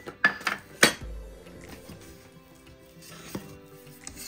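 A spoon clinks against a bowl while mixing savory sardine pie batter with grated parmesan and baking powder, giving a few sharp knocks early on, then softer, steady scraping and stirring close by.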